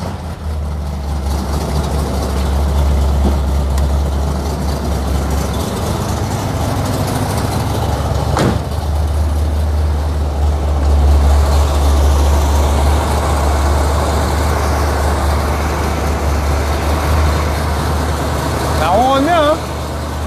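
A restored vintage French car with an art deco interior starts and settles into a steady, deep idle, its low rumble continuous and close for the whole stretch while a voice talks over it.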